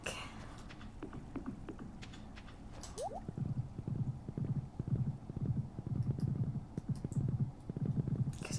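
Horse hooves clip-clop in a steady, even rhythm across a Stardew Valley farm, moderately close and fairly quiet, with soft game ambience underneath and no talking.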